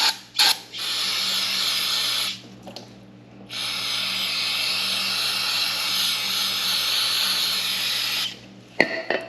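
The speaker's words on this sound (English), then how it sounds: "going to go ahead and get some brake cleaner here" Brake cleaner sprays into a 2-stroke exhaust pipe in long hissing bursts, two extended sprays separated by short pauses, close and fairly loud with a few clicks between.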